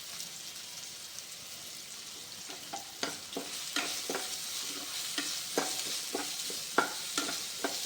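Curry leaves, ginger and garlic frying in hot oil for a banana flower curry, a soft hiss with a rhythmic series of crackles and stirring taps growing busier over time.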